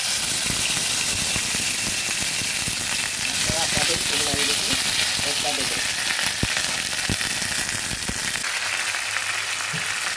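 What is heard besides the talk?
whole cumin and ginger paste sizzling while frying in oil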